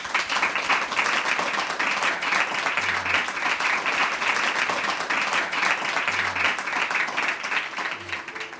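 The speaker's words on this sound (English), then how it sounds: "Big round of applause for Oliver." An audience gives a big round of applause for Oliver, a dense, sustained wash of many clapping hands at a steady, full level with no break, fading only slightly at the very end.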